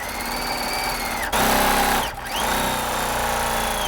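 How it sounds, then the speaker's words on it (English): A sewing machine runs steadily while stitching a quarter-inch seam through quilt fabric. A close mechanical whir stops briefly and then starts again, with its pitch sliding up and down as the motor speeds and slows. "now we're just stitching that same 1/4 inch seam"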